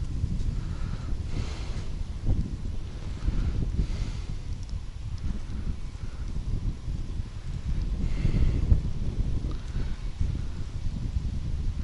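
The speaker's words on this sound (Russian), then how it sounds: "Блин, ветер меня этот заманал уже." Wind gusting across a small fishing boat on a river while perch fishing, a steady low rumbling buffet against the microphone that swells and eases in waves, with no speech.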